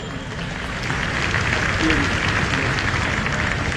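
An outdoor audience claps steadily at a police training passing-out parade. The applause is dense, continuous and fairly loud throughout, with a faint voice underneath.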